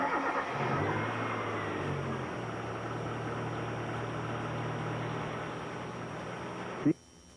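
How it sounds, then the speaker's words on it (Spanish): A car engine idles steadily with an even, low hum and a constant drone. It holds at a similar level for about seven seconds, then cuts off abruptly after a brief click. "El motor parecería estar en ralentí normal."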